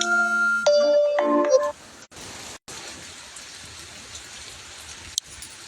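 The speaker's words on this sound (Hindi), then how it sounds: "ये देखिए अभी भी बारिश हो रही है यहाँ पे।" Steady rain pours down on a village near farm fields in Panna, India, a dense hissing wash that takes over after a short electronic ringtone-like jingle at the start.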